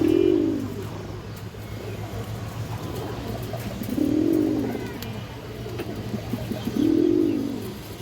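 Khaki pigeons offered at a pigeon sale coo close by, three soft rolling coos spaced a few seconds apart over a low background hum.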